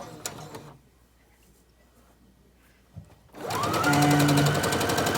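After a few seconds of near quiet with a small knock, an electric sewing machine starts up and runs loud and fast, stitching down the sides of Ankara fabric with a rapid, even mechanical whir.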